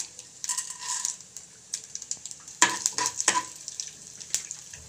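Mustard seeds, cumin and urad dal crackle and sizzle in hot oil for a groundnut chutney tempering, with irregular bursts of sharp popping and spattering close by and no speech.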